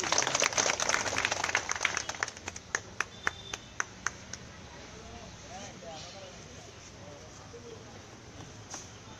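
At a union council open budget meeting, a crowd claps briefly, the patter thinning into a few scattered sharp claps before dying out beneath a quiet room murmur.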